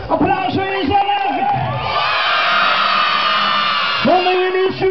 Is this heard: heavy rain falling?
no